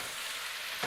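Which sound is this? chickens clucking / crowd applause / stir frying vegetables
stir frying vegetables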